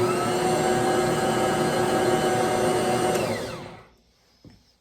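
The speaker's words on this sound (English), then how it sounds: "so we are going to stir this around" Muffin batter being stirred, heard as a loud, steady motorized whir that runs continuously, then winds down and cuts out near the end, followed by a faint clatter.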